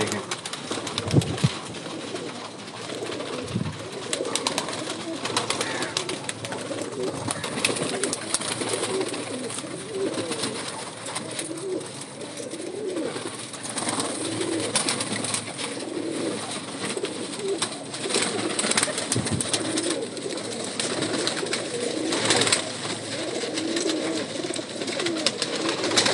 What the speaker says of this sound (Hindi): ये सारे कबूतर परवाज़ी कबूतर हैं